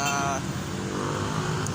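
Road traffic in Angeles City passes close by, a steady rumble of vehicle engines with a brief higher whine early on.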